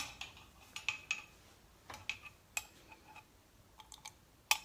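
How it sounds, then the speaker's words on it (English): A spoon handled in a cup of golden milk gives scattered light metallic clinks and taps against the cup, faint and irregular in a quiet room. "No, let me just take out a spoon."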